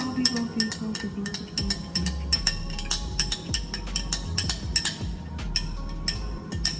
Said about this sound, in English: Mix the coffee.